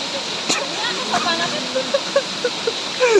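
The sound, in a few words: clear cold stream water flowing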